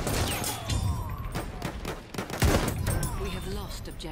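Semi-automatic gunfire in the video game Battlefield 1, a busy stretch of repeated shots and bursts with battle noise, one louder blast near the middle, loud and close.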